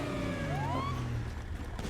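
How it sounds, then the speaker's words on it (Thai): Police car sirens wail in rising and falling sweeps over a rumbling traffic and engine background in the video game GTA V, heard moderately loud with no talking. "ไม่ต้องสนใจรถตำรวจอีกสองคันที่ขับ"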